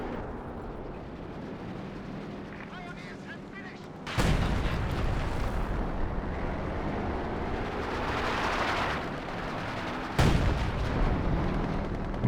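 A Company of Heroes 2 artillery barrage: two heavy booms land a few seconds apart over a dense, rumbling battle din that runs through the whole stretch.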